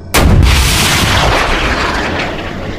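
A rocket launch sound effect, a sudden loud booming blast that settles into a sustained roaring rumble, fading slowly over a few seconds.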